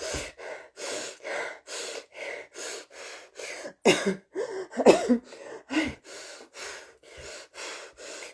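A woman imitates the rapid, short, nervous breathing of an anxiety attack with a long series of quick, evenly spaced huffing breaths, close and loud, with a few gasps and snorts mixed in.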